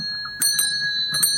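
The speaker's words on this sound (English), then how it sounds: "Ding ding goes the bell." A bell rings in the video game Contradiction, struck in a few bright, ringing strikes in two short clusters over a steady tonal hum, with no talk.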